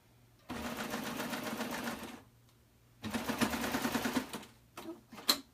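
A sewing machine stitches a two-thread flatlock seam on underwear fabric in two steady bursts of about 1.5 seconds each, separated by a pause, followed by a few short stop-start runs at close range.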